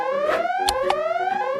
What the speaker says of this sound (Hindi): ओ, मुझे अलार्म बंद करना होगा।